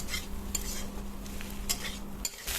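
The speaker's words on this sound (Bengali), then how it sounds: "উচ্ছে আর আলুর সাথে এবার ডিমটা দিয়ে মিশিয়ে নেব" Egg mixed into bitter gourd and potatoes in a pan makes soft stirring scrapes and light utensil taps over a faint sizzle, quiet and close over a short span.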